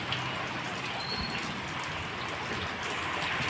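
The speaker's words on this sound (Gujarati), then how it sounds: "એટલો વરસાદ પડ્યો, બહુ જ વરસાદ પડ્યો" Heavy overnight rain pours down steadily outdoors, a dense, even hiss of drops on surfaces with no talk.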